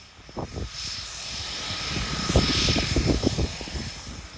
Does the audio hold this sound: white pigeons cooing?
no